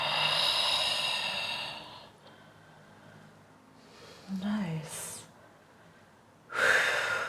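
Strong, forceful breaths during a yoga class practicing downward dog variations, with loud exhales at the start and end and softer breathing between, while an instructor speaks briefly.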